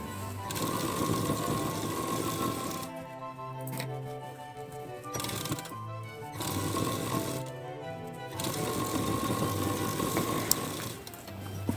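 Sewing machine stitching tucks into a plain blouse, whirring in steady bursts of a few seconds each with short pauses between runs, close and fairly loud, with no talking.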